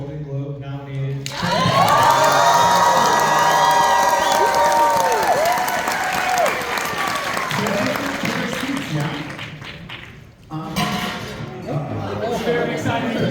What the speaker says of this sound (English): Can we have a huge round of applause for this not one, not two, but 3-time Golden Globe nominated.